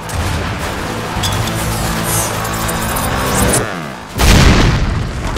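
A frag grenade explodes in the Army of Two: The Devil's Cartel video game, a loud booming blast that bursts in near the end after a stretch of dense, steady action noise.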